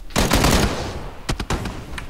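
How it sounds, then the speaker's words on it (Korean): Automatic gunfire in a battle royale shooter, a long rapid burst followed after a short pause by a few sharp separate shots, loud and close with no talk. "총소리 들립니다"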